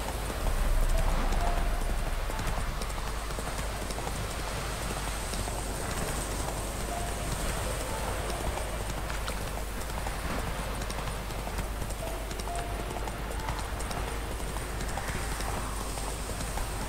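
Roach the horse gallops in The Witcher 3 video game, a continuous dense drum of hoofbeats under a steady bed of wind and ambient noise, fairly even in loudness throughout.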